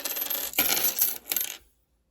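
Loose dimes spill and clatter out of an unwrapped coin roll, a dense metallic jingle in two bursts with a short pause between, close and fairly loud, then silence.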